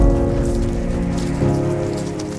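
Rain falls during the Okavango Delta's rainy season, a loud, steady wash of drops that continues without a break from start to finish.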